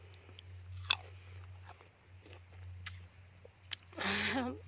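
Someone bites into and chews an apple at close range, with a few crisp crunches scattered through the stretch and a louder crunching bite near the end, over a steady low hum.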